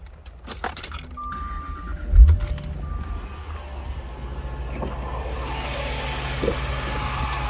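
Keys jangle and click in the ignition before a 2003 Jaguar XKR's supercharged 4.2-liter V8 cranks with a brief loud burst, then settles into a smooth, steady idle close by.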